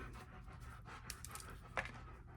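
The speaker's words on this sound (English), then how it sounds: "You can hear my dog sniffing in the background." A dog sniffs and pants quietly in the background, with short soft breathy bursts over a steady low room hum and one brief sharper snuffle near the end.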